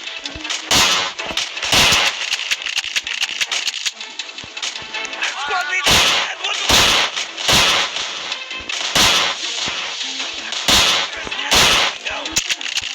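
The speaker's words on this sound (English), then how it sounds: "Placing charge." Explosive charges and gunfire in a first-person shooter video game, a series of sharp, loud bursts spaced irregularly over a constant noisy game background, with voices chatting between the blasts.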